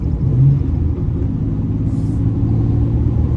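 A 2000 Ford Ranger 3L with a Dynomax Ultra-Flo stainless cat-back exhaust runs with a loud, steady, deep rumble up close, holding an even idle without revving.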